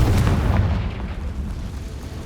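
A Confringo fire spell explodes in Hogwarts Legacy as a heavy, close boom with a sustained low rumble that slowly decays.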